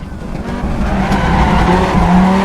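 An Audi Quattro rally car in the racing game Assetto Corsa slides sideways on the Nordschleife, its engine droning loud and close while the tires squeal steadily through the corner.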